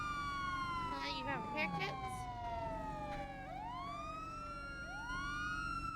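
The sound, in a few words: police car sirens in video game GTA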